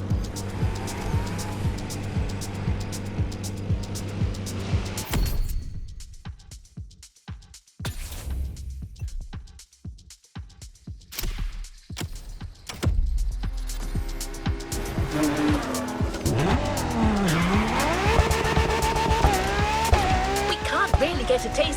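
Racing car engines roar and tires squeal during Japanese-style urban street racing with heavily modded cars in The Crew Motorfest, loud and continuous, dipping into a quieter stretch of sparse hits before engines rise again with sweeping pitch changes.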